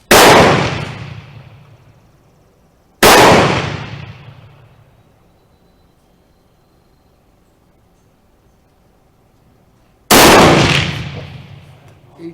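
Three loud, close rifle shots from a Remington Rolling Block in 7mm Mauser, each a sharp crack with a long decaying echo, spaced irregularly with quiet between.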